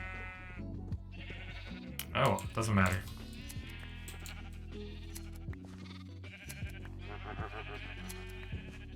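Blocky Minecraft sheep bleat in a survival game, several wavering baa calls over a steady background hum, with a person's voice talking briefly in the middle.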